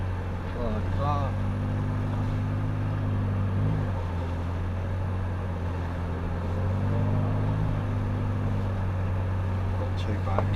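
A Morris Minor car drives along with a steady low engine drone and road rumble throughout, loud and constant, while people talk over it.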